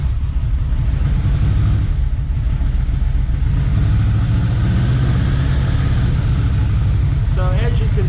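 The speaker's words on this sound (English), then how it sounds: "so now let's start the bike and see what happens to this voltage" A Yamaha Vmax motorcycle engine, its battery running flat, starts and settles into a loud, steady idle with a continuous low rumble throughout.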